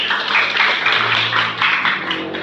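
A classroom group claps for Group 2 in a short, steady burst of applause from many hands, fairly loud and close, fading slightly at the end.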